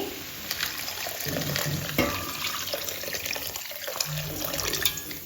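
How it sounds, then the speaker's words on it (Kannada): Water splashes and runs steadily into a pan for cooking Maggi noodles, a continuous close pouring sound with small splashy bursts throughout. "ಇವಾಗ ನೀರು ಹಾಕ್ತಾ ಇದ್ದೀವಿ"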